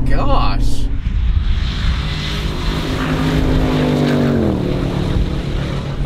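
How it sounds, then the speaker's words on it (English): A Jeep Trackhawk and a supercharged Ford F-150 with Hennessey Venom 775 tuning launch in four-wheel drive at a drag race, engines roaring and rising in pitch, heard from a distance under excited voices. "Was that a four-wheel drive launch? Yeah, four-wheel drive launch, had a perfect launch."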